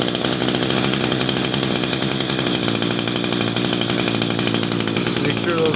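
Echo SHC-212 hedge trimmer's small two-stroke engine idles a little high after carburetor and fuel line repair, a steady, loud, buzzing drone running evenly throughout with no breaks.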